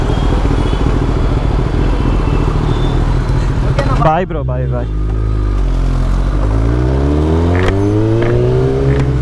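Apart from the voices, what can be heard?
Kawasaki ZX-10R motorcycle riding through traffic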